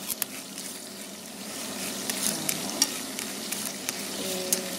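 Shallots fry gently toward crisp and golden, a steady close sizzle and bubbling hiss with frequent light clicks and scrapes of stirring, no voices.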